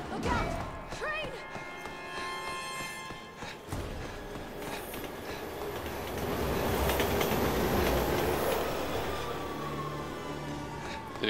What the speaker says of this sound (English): Alright, remember, the train comes from the right the first time